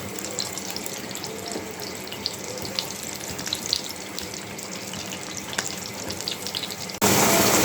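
Pieces of pointed gourd fry in hot oil in a pan, a steady close hiss and crackle with scattered pops, jumping suddenly louder near the end, no voices.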